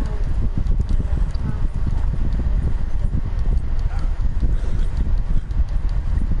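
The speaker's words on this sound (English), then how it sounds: "I want my horse to go dumpty dumpty dumpty dumpty dumpty." Horse hooves gallop in Red Dead Redemption 2, a fast and continuous drumming of clip-clop beats that stays loud and close for the whole stretch.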